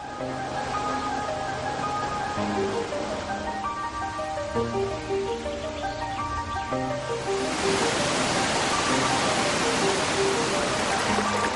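Waterfalls cascade near erosion-carved grottoes, a dense continuous roar of falling water that swells louder in the second half, with faint tonal music running beneath it and no talking.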